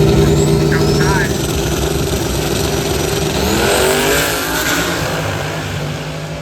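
A Chevrolet Nova drag race car accelerates hard at a snowbird nationals drag meet, a loud engine roar rising in pitch and then fading as the car pulls away, with crowd and track noise around it.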